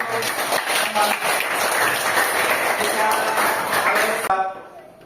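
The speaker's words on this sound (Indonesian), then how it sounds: "Oke, kita tepuk tangan dulu." A class claps hands together during a lesson, a dense burst of many palms close by that holds steady for about four seconds before stopping abruptly into near quiet.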